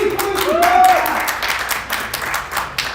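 An audience claps at a Chicago City Council budget meeting. The applause is a brief burst of scattered hand claps, with a voice speaking over it.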